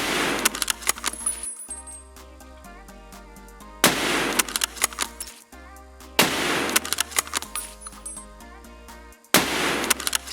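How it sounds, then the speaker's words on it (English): Suppressed Mosin sniper rifle shots in Escape From Tarkov, fired indoors: three sharp, loud cracks spaced a few seconds apart, each followed by bolt-action clicks and metallic rattling, over a low steady hum. "And we're going to shoot."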